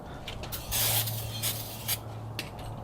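Brake cleaner hisses in a few short bursts onto a car brake, close and fairly faint, with quiet rubbing between sprays and no talk.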